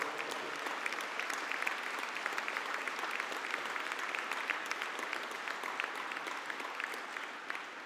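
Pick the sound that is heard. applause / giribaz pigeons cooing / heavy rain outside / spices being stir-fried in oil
applause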